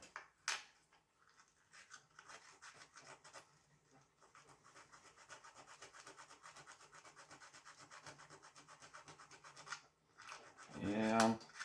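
A scouring pad scrubs rust from a part of an 1858 Remington New Model Army revolver, giving a steady, close rasping rub that runs for several seconds after a short pause and ends in a louder burst.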